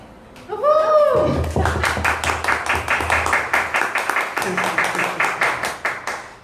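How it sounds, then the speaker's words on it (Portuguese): Hands clap during a Catholic youth gathering as the parish priest is introduced. Crisp, fairly loud claps fill the space and settle into a rhythmic beat toward the end. "Só são palmas de 2 pessoas que estão transmitindo"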